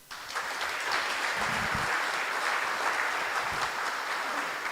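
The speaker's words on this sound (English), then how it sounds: "give Prabhu a bigger round of applause" Warm, sustained applause from a temple audience at a Balaram Jayanti gathering at ISKCON Phoenix, even and dense throughout at moderate volume, with no speech over it.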